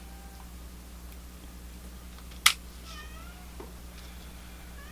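A cat gives a single short, sharp meow partway through, outdoors in an acacia grove, over a steady low hum with faint ticks around it.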